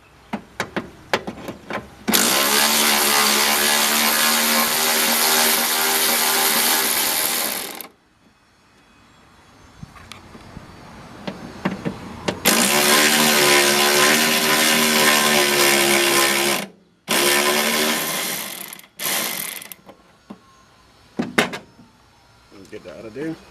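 A power tool takes out a radiator bolt on a 2000 Dodge Ram 1500 van during a DIY radiator replacement, sounding as close, loud whirring bursts, two long and a few shorter, broken up by metallic clicks and quiet gaps.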